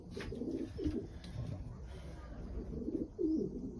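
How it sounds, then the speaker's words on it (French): A pigeon coos in low, soft repeated phrases, a few throaty calls spread across the moment with steady background noise beneath. "Il est magnifique ce pigeon."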